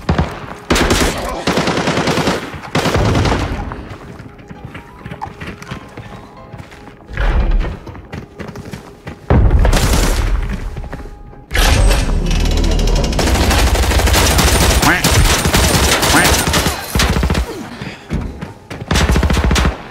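Repeated USAS-12 automatic shotgun blasts in Arena Breakout, loud bursts of rapid fire separated by quieter stretches of in-game noise, building to sustained heavy gunfire toward the end.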